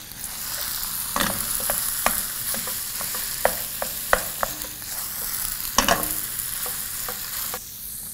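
Vegetables and meat fry together in a pan for a Bolognese sauce, a continuous close sizzle broken by sharp, irregular clicks and scrapes of stirring.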